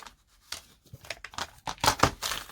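Craft papers are cut down to size with uneven, close-up crinkling and rustling that grows louder toward the end, broken by a few short snips and scrapes, and no one speaks.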